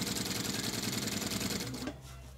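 A sewing machine stitches a diaper cover in a fast, steady whir of close needle strokes for under two seconds, then stops abruptly, leaving faint room noise.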